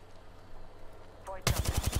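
Automatic gunfire in the Apex Legends battle royale game arrives in a sudden, loud burst of rapid shots near the end, following a quieter stretch.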